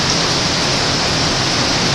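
Hurricane Katrina rain pours onto saturated trees and ground as a loud, dense, unbroken roar of water, steady and close for the whole stretch with no voices.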